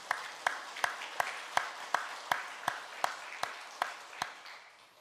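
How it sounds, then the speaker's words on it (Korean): Slow, evenly spaced rhythmic clapping in a church after a choir performance, about a dozen sharp claps in a steady beat, fairly quiet and reverberant. "하나님께 영광의 박수 올려드리겠습니다"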